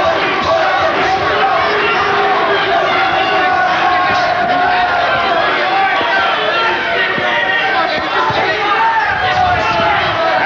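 Boxing arena crowd in Atlantic City roaring loudly and continuously, a dense wall of cheering and shouting with chatter mixed in.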